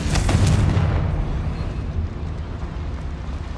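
Confringo spell explosion in the Hogwarts Legacy game, fired inside a small mine: a single loud, close boom with a sharp burst that rolls off into a decaying rumble.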